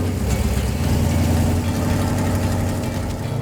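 A lifted Plymouth gasser hot rod engine runs close and loud, a deep, steady, lumpy rumble with no talking over it.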